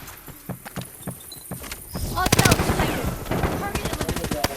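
Rapid bursts of automatic gunfire in a multiplayer shooter video game, sharp repeated cracks in quick rhythm growing denser and louder, with players talking over them.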